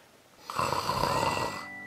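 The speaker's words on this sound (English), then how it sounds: "Come on, no one snores like that." A single loud, drawn-out snore rumbles close by for about a second, with quiet before and after it.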